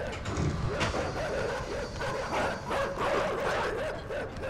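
Dogs bark and yip repeatedly in the Inside video game, a dense, steady stretch of overlapping barks over a noisy background.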